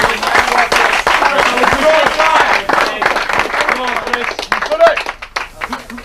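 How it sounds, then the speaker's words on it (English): A crowd at a Fash FC amateur football match claps for a player named Chris before kickoff, steady near applause mixed with chatter and someone talking over it throughout. "Chris, we're going to give you a round of applause, because it's the first time in."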